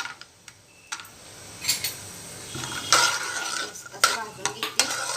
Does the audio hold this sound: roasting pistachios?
yes